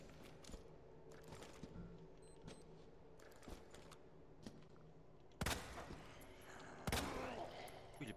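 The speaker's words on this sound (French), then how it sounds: "Il est puissant son pistolet." Pistol gunshots from Resident Evil 2 in the sewers, sharp cracks over a low ambient game bed, with faint small impacts and two louder shots near the end.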